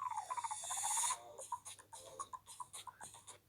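Samsung Galaxy A8 (2018) Bubble Beat ringtone, opening with a rising bubbly sweep and then a bouncy run of short popping electronic notes in a steady beat, heard alone.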